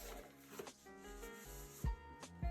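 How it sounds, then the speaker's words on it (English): A Simbans Picasso tablet is worked into a snug protective case, giving close, quiet rubbing and scraping with a few sharp plastic clicks and knocks. "I am going to go ahead and put this in the case so we can keep it protected"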